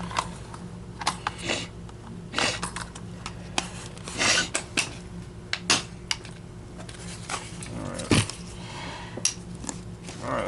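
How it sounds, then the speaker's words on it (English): Small metallic rattles and clinks tap irregularly as loose springs bounce inside a hollow plastic part of a Miele S194 upright vacuum, close up and fairly quiet. "You can hear the springs bouncing around in there."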